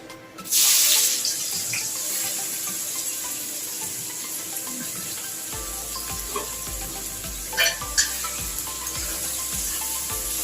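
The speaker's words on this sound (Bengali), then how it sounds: "আমি পাতলা করে কেটে রাখা পেঁয়াজ 500 গ্রাম আমি এর মধ্যে দিয়ে দিচ্ছি।" About 500 grams of thinly sliced onions hit hot oil seasoned with bay leaves, setting off a sudden loud burst of sizzling. A steady frying hiss follows, with a couple of sharper crackles near the end.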